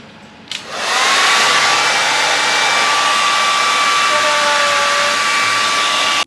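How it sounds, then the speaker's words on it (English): A hair dryer switches on and blows with a steady, loud roar that holds evenly for several seconds before cutting off. "Put your blow dryer in. Just like that. Turn that thing up."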